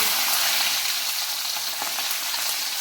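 Ginger and garlic sizzle and fry in hot oil after mustard seeds for a Kerala-style chicken curry, a steady close crackle with faint stirring and no talk.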